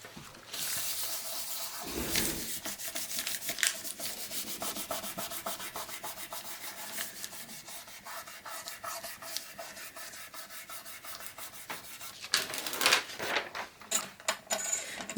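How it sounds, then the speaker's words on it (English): A sheet of paper rubbed over polymer clay to smooth it gives a steady, close dry scraping and rasping, with brief louder scuffs near the start and end and no talking. "use a piece of paper to give it a little smooth"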